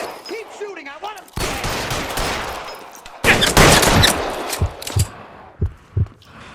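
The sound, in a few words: gunfire in the video game L.A. Noire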